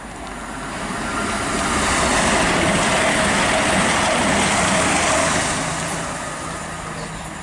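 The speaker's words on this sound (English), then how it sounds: "Passing through now is an East Midlands train service to Corby" An East Midlands train runs through St Albans City station, a loud broad rushing roar that swells over a couple of seconds, holds steady, then fades as it passes.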